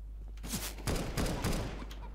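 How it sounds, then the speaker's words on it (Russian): Enemy gunfire cracks during a CS:GO match in a quick flurry of sharp shots, a few clustered bursts within two seconds over a steady low hum. "Откуда эта сволочь стреляет?"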